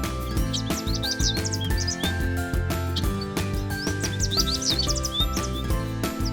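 Small cartoon songbird chirps and twitters in quick bursts of bright tweets, playing continuously over a full, lively orchestral music backing for a Snow White story.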